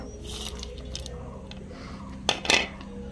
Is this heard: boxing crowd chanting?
no